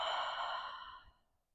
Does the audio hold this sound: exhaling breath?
yes